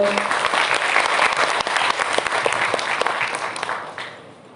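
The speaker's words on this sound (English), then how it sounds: "Please have a huge round of applause for our principal" Students at a college annual function give their principal a loud round of applause, thick continuous clapping close by that fades away toward the end.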